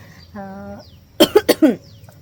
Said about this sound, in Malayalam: ചെറുതായിട്ട് ജലദോഷം ചെറുതായിട്ട് ചുമയും ഒക്കെ സ്റ്റാർട്ട് ചെയ്തിട്ടുണ്ട്